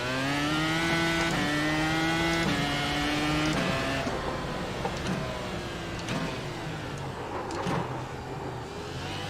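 A high-revving video game race car engine screams through several gear shifts, then cuts into rougher rumbles and clunks as the car slows.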